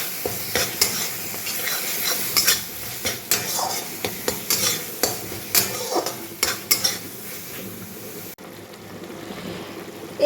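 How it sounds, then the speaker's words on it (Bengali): Spice masala with bay leaves cooking in oil in a pan with a splash of water, a steady loud sizzle broken by repeated scraping strokes of a spoon, which stops abruptly near the end. "একটু জল দিয়ে মশলাটাকে কষিয়ে নিচ্ছি।"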